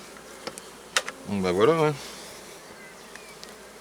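Honeybees at a divisible Layens hive give a soft, continuous buzz, with a brief spoken phrase over it and a few small knocks.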